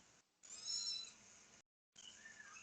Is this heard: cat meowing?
yes